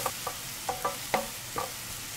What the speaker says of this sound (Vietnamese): Bây giờ dầu đã nóng thì mình cho hết sả vào trước nè